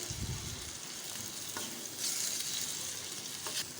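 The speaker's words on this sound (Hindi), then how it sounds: "और हम 1 मिनट तक अच्छे से फ्राई करेंगे मीडियम फ्लेम पे" Onion and capsicum frying over a medium flame for vegetable anda ghotala, stirred in the pan: a quiet continuous sizzle with a few soft scraping strokes and clicks.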